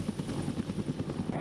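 An AH-1W Super Cobra attack helicopter's rotor thumps in a fast, steady rhythm, moderately loud and close, with a faint high engine whine above.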